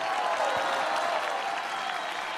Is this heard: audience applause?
yes